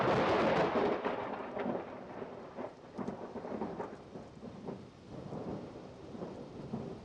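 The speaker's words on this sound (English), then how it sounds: "When you hear the thunder, that means that lightning is about 2 kilometers away." Thunder rolls and rumbles through a thunderstorm, starting with a loud crack and fading into long uneven grumbles over steady rain.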